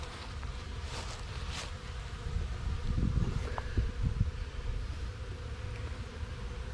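Honey bees buzzing around a hive entrance, a soft continuous drone of many insects with a few louder passes close by, fairly quiet outdoors.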